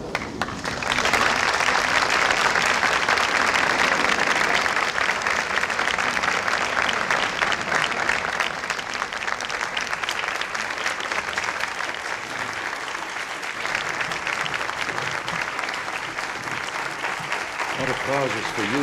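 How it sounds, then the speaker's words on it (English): Loud, sustained applause from a large crowd at a Presidential Medal of Freedom ceremony, continuing for a long stretch and easing off slightly toward the end. "That applause is for you, not me."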